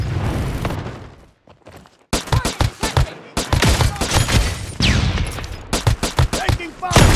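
Saiga-12 semi-automatic shotgun in the shooter game Modern Strike Online fires in rapid loud bursts of blasts, with short pauses between volleys and faint game voices mixed in.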